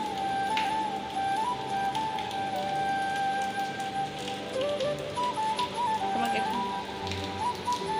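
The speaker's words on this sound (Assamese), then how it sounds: "ৰাতিপুৱাই বৰষুণ।" Steady morning rain falls close by on a surface in Bengaluru, a dense continuous patter with thin whistle-like bird calls threading through it.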